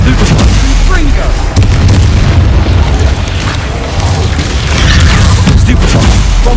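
Loud, continuous booming blasts fill the scene as the Confringo fire spell strikes during combat in Hogwarts Legacy, with dense rumbling explosions layered without pause. A voice calls out nearby.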